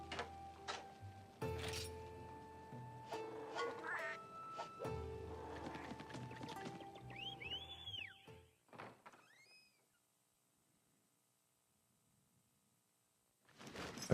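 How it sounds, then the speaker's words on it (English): In the Monster Hunter Stories video game, a whistle and a door opening sound play amid clunky interface effects, with several quick chirping tones before the sound falls nearly silent and a final burst returns. "I feel like they should have the door opening sound before the whistle."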